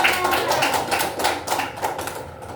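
Children clap together for a classmate during a read-aloud session, a dense, steady patter of many small hands held close and fairly loud for the whole stretch.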